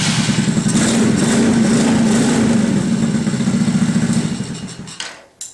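A mini chopper motorcycle's small engine runs loud and close with a steady chugging idle, then fades and cuts out near the end.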